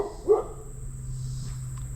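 A single short dog bark rings out early, a dog guarding its territory near a black Pequin pepper plant, followed by a steady low hum and faint insect chirps.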